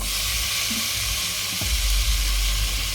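Bommidi fish curry sizzles loudly in a pan as tomato goes in, a steady frying hiss with stirring and a sudden heavier burst of sizzle partway through, no voices.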